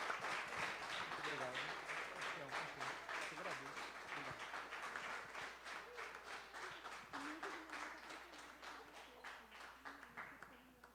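A church congregation claps during a worship service, a faint, distant patter of many hands running under a voice that keeps talking throughout.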